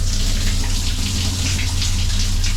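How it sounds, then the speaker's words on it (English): Shower water runs steadily in the cramped bathroom of an Amtrak sleeper train, a constant close hiss of spray over a low rumble, with no talk. "we are taking a shower on board the Amtrak."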